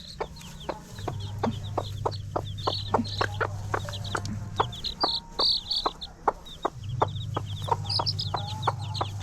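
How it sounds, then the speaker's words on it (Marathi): A hen clucks steadily in short repeated notes while chicks cheep in high, quick bursts nearby, over a low intermittent engine-like hum. "हे बघा आमची कोंबडी आणि त्याची पिल्लं"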